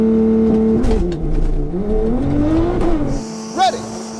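A Stage 4 Nissan R35 GT-R and a 4WD Ford Focus RS drag race. Engines rev and whine as they pull away, then a brief tire squeal and a rising whistle-like tone come near the end, with voices talking over them.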